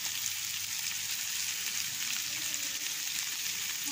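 Beef shawarma and sliced onions fry in fat, making a steady, dense sizzle that crackles evenly throughout at close range, with no pauses.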